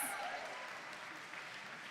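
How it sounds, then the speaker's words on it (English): A crowd at a robotics competition claps for an alliance, a short, faint burst of scattered applause heard at a distance. "Round of applause for Alliance 6."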